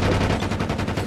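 Rapid automatic gunfire from the Call of Duty Mobile game, a fast burst of evenly spaced shots, loud and close for about a second.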